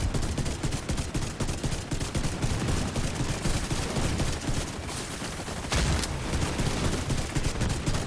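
Gunfire in the Division 2 video game rattles in dense, continuous bursts, like a fusillade, with one brief, louder crack of impact partway through.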